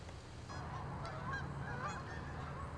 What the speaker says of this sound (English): announced by the ever-present honking, the first of the migrating Canada geese returned to the pond